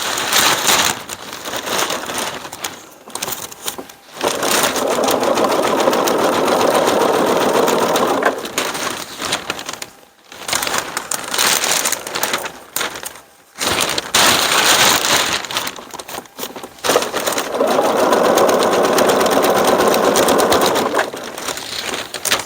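An industrial sewing machine stitches edge binding in long whirring bursts, loud and close, separated by brief pauses and a few softer gaps.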